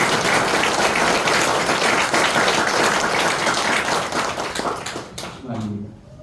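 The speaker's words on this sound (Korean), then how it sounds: "동의하시면 큰 박수를" A church congregation at a Sunday worship revival service in Gwacheon, Korea, bursts into loud, sustained applause that gradually thins and fades after about five seconds, followed by a speaking voice.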